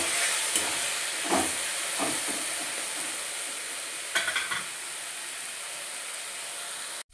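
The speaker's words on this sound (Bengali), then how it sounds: "তো এরপর সব কিছু ভালো করে ভেজে নেবো" Drumstick (moringa) leaves with a little sugar fry in a pan under a steady soft sizzle, broken by a few scraping stirs, before the sound cuts off abruptly.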